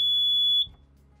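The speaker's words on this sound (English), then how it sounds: "an alarm sounds." During a lockout tagout demonstration on a fan, an electronic alarm sounds one loud, steady high-pitched tone that cuts off abruptly after about half a second, leaving a faint low hum.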